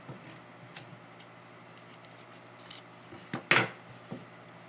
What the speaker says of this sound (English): I'm going to cut my thread off.